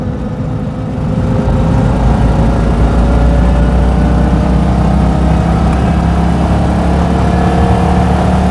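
A 1959 BMW Isetta 300 microcar's small engine drones steadily and close while driving, a continuous loud hum with low rumble, holding an even pitch throughout.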